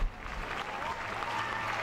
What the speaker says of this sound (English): A huge standing ovation from the crowd.